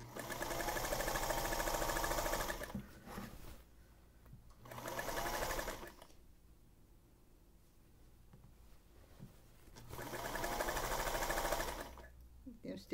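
A sewing machine stitches quilt pieces for a Radiant Star quilt in three steady whirring runs, each lasting a couple of seconds, separated by quieter pauses with faint background sounds.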